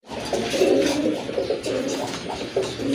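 A pair of pigeons coo in low, throaty bursts, repeated several times close by over a steady background hum, with no talking.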